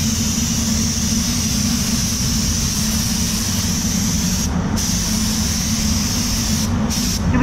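A spray gun lays down a wet base coat of paint, giving a continuous loud hissing rush with a low rumble beneath it and two brief dips in the hiss.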